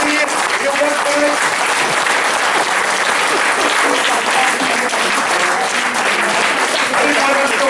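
An audience at an official anniversary ceremony applauds in a dense, continuous burst of clapping lasting several seconds, with scattered voices mixed under it.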